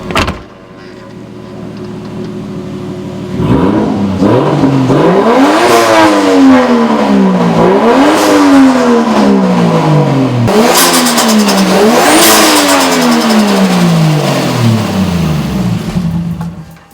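A Toyota Chaser JZX100 with a 1JZ engine, being brought back from an accident-damaged non-running state, idles, then revs loudly and close in repeated rising and falling pulls, with no talking.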